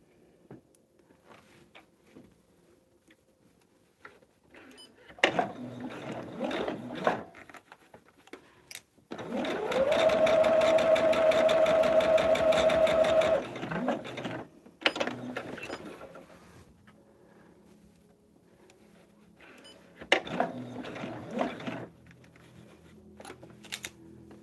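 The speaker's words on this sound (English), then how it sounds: "let's go ahead and sew these" Sewing machine stitching fabric star pieces for a table runner, heard in several close bursts: short runs of whirring, rapid mechanical stitching, then one longer steady run of several seconds, with quiet handling noises between them.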